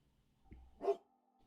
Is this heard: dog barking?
yes